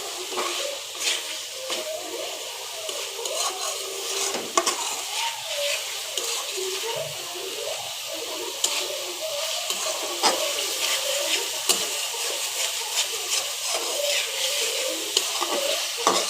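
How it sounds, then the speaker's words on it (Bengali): Fish sizzling and frying with spices in a pan for a fish and bottle gourd curry, a steady crackling fry with stirring clinks throughout, no voices. "আমি মাছটাকে ভালো করে টেলে নিচ্ছি মশলার সাথে"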